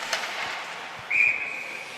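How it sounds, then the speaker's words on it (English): A referee's whistle sounds one sharp, steady blast at a girls' varsity ice hockey game between Darien and Greenwich Academy, starting the third period, heard over a low arena murmur with a brief earlier faint peep. "Our first whistle of the third period."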